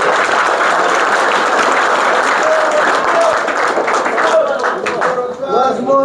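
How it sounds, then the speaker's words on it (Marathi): Loud, continuous applause from a crowd at a school annual gathering fills the whole stretch, dense and steady, easing slightly near the end. "जोरदार टाळ्या वाजवा."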